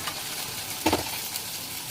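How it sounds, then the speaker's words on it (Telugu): Ginger garlic paste sizzling in a hot pan with curry masala, a steady close frying hiss with a brief stir of the spoon partway through. "అది వేసిన తర్వాత కొంచెం అల్లం వెల్లుల్లి పేస్ట్ వేసాను."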